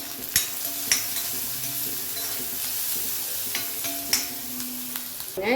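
Steady sizzling of chayote (chow chow) frying in a pan, with occasional scraping and clanks of a utensil stirring it.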